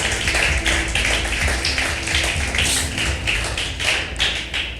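A church congregation claps steadily for several seconds, a dense run of hand claps filling the space with no break.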